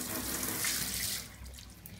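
Water pouring from a hotel tap into a sink, a steady splashing rush close by that eases slightly toward the end.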